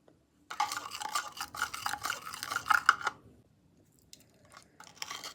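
A spoon stirs multani mitti, milk and honey into a thick paste in a small bowl, making a run of close, rapid scraping and clinking strokes that stop, followed by a few faint taps.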